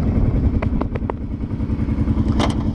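A Kawasaki Brute Force ATV rides over rough terrain, its engine a loud, close, steady rumble broken by a few sharp clattering knocks from the chassis jolting over bumps.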